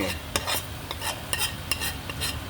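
Squid being stir-fried dry with curry powder in a wok, with a steady sizzle broken by sharp, repeated scrapes and clacks of a spatula against the pan, close and fairly loud, no voices.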